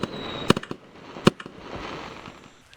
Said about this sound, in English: Just launches fireworks.